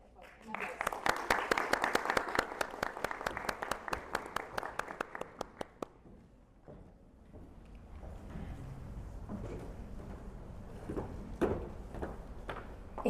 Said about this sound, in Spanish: Daniela, por favor, un aplauso.